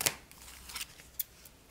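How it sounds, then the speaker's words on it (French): Oracle cards being shuffled by hand before a draw, a short crisp riffle followed by a few soft papery flicks and taps, close and alone. "je vais vous tirer une carte Atlantis, l'oracle des océans"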